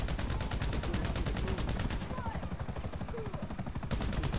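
A helicopter in the video game GTA thrums with a fast, steady rotor chop throughout, loud and close, joined by rapid gunfire-like bursts.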